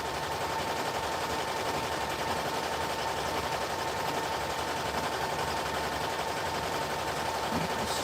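An embroidery machine stitches a detailed print for Etsy orders, a continuous rapid mechanical chatter that holds steady and fairly loud throughout, with no voices.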